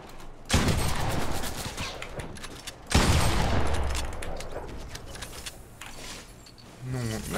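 Two loud bursts of rapid gunfire in the Fortnite video game, each decaying into a rattling tail, with quieter game noise between them.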